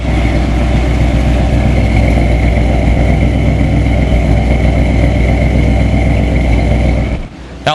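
A 1964 Buick 425 Nailhead V8 with dual four-barrel carburetors rumbles loudly and evenly at idle through its exhaust, heard up close at the tailpipe, steady throughout before a brief drop near the end.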